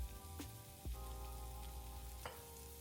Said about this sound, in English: I'm going to start by searing the shrimp for about 2 to 3 minutes per side.